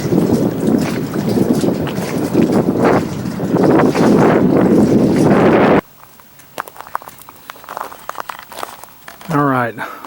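Jet ski engine running on open water, a loud buzzing drone mixed with wind buffeting and splashing for several seconds, then cutting to quieter scattered sounds with a person talking.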